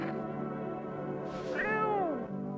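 A single drawn-out meow from a cat in the indie game No I'm Not a Human rises and bends downward, sounding clear and close over a low steady hum of background music.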